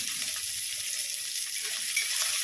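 Curry leaves and sliced onion sizzle in hot oil after mustard seeds have popped, a steady close frying hiss with no voices.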